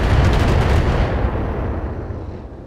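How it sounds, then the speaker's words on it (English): Incoming rockets from a missile volley slam into mechs in BattleTech as a loud, continuous barrage of blasts and rumbling impacts that fades slowly toward the end. "There's a lot of rockets coming in."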